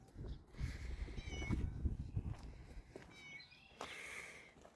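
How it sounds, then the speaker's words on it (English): A farm cat meows several times close by, its cries rising and falling over soft footsteps and rustling, with no one talking. "It's actually about how we like our farm cats. You're noisy though."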